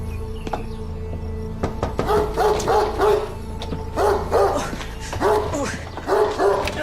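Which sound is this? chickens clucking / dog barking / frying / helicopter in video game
dog barking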